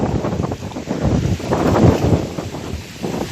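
Strong wind blasts across the microphone of a cyclist out riding, making a loud, steady rumble with gusty surges and no talking.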